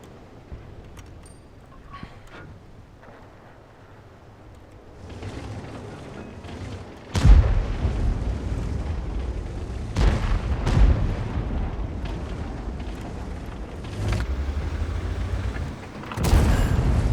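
An AMX 30 B tank cannon fires in World of Tanks, delivering a sharp, heavy boom followed by rumbling battle noise, with further blasts and impacts breaking through at intervals.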